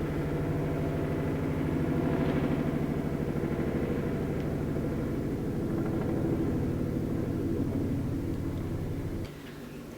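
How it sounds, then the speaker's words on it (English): A helicopter flies low and close over a house with a loud, rumbling roar and steady, rapid rotor thumps that continue throughout, then the sound drops off abruptly near the end. "I think that was a helicopter."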